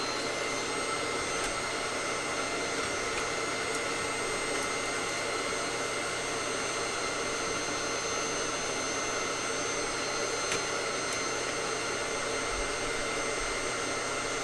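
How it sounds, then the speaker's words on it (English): A Dyson V11 cordless vacuum cleaner sucks up debris with a steady, loud motor whine and airflow hiss that stays unbroken for the whole stretch. "So I'm going to get a vacuum and kind of vacuum this up as I go"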